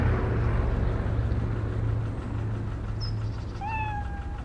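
A cat in the video game Cafe Owner Simulator gives a short meow, then a longer one near the end, over a steady low background hum with no talking.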